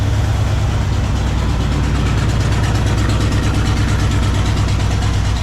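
A 1964 Pontiac Catalina barn find, unstarted for over thirty years, runs loud and close, its engine holding a steady, throbbing idle with a faint rhythmic ticking throughout.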